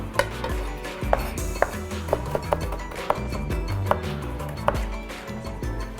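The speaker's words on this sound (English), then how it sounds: "All right, heavy garlic. And crush these guys down. You want a nice paste with these ones." Garlic cloves are crushed into a paste with sharp, irregular taps and knocks of a blade or utensil on a board, about a dozen distinct hits over a low kitchen background.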